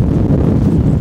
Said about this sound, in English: But it looks windy as hell down there.